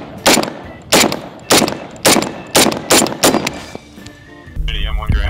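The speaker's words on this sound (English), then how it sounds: "Ready, M1 Garand." Rapid sharp cracks of M1 Garand rifle rounds passing downrange at a firing range, about eight loud evenly spaced snaps over several seconds, then a brief low rumble and mechanical noise at the end.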